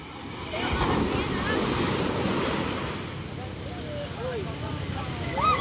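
Big waves roll and wash continuously at a fish terminal in Tanza, Cavite, with wind buffeting the microphone, a loud surging roar that eases slightly before swelling again.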